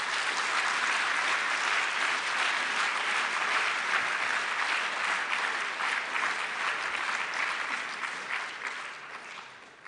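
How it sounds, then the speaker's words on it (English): Sustained applause from a banquet audience at a student design competition, dense and even clapping lasting nearly ten seconds before gradually tapering off. "Let's have a big round of applause for all of the competition sponsors."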